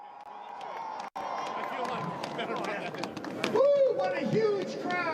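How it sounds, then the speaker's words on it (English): A large crowd at the 2024 Groundhog Day gathering in Punxsutawney fills the air with steady, dense cheering and hubbub, with a brief dropout near the start and a loud voice whooping near the end. "what a huge crowd!"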